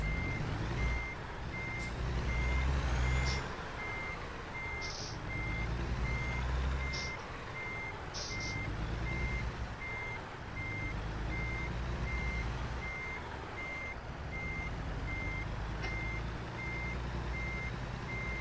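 A heavy truck in American Truck Simulator, in the Washington map, backing up with a steady, evenly spaced reversing beep over a loud, constant engine drone and some faint higher clicks, no voices.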